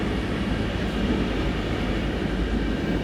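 A diesel train running in Train Sim Germany on the Hamburg–Lübeck line, with a BR 112 hauling N-Wagen coaches with a cab car at notch 3, gives a steady, loud rumble of engine and rails with no pauses.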